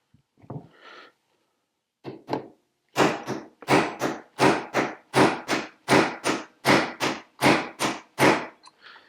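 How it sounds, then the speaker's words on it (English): A heavy hammer strikes metal up close, knocking out a tight bearing plate from a magneto: a few tentative taps and then about a dozen loud, evenly spaced blows in a steady rhythm, no talking. "So I got a bigger hammer."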